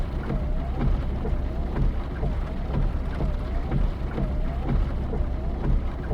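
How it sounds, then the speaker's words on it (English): A steady, dense wash of heavy rain in a video game continues without pause, with a faint low rumble underneath and no voices. "Sure is raining hard."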